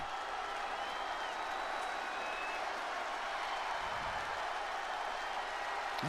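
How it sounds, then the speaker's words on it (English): A large wrestling crowd in the video game WWE 2K24 roars and cheers continuously, a dense steady wall of noise with faint whistles rising above it. "Listen to that crowd!"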